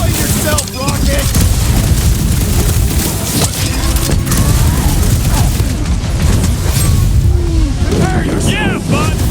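A big gun fires with explosions in the Guardians of the Galaxy video game. Dense, continuous rumbling blasts and crackling bursts fill the scene while voices talk over the chaos.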